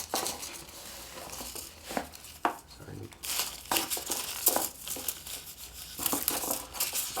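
Glossy paper rustles and crinkles in bursts while being handled for a glue book collage, with brief crisp handling noises and some background movement.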